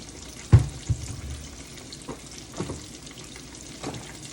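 A pot of tomatoes, corn, okra and garlic heating toward a simmer gives a soft, faint sizzle, with a couple of sharp utensil knocks near the start and a few lighter taps later.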